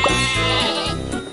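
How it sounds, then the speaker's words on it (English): Cartoon sheep in the Thomas & Friends: Magical Tracks video game give a loud, close, wavering bleat with a short follow-up call, heard alone. "Some sheep have wandered off from the farm."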